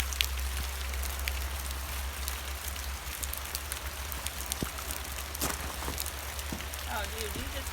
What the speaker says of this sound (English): we tried to get out of the rain a little bit.